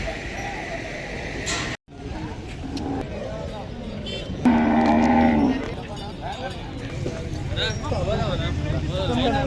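Busy bullock and cattle market in Pebbair, with a clear moo rising above a steady din of crowd chatter and passing vehicles, animals and traffic heard close by under continuous voices.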